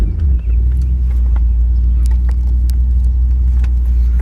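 A 1963 Ford Galaxie 500 convertible cruising down the road, a loud steady low engine and road rumble that holds evenly throughout with no talking.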